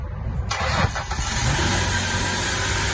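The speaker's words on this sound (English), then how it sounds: "And now we're gonna try one more time." A Ford Mustang 3.8 engine cranks and catches on a second attempt, close and loud, then settles into a steady idle right after a short starter whir.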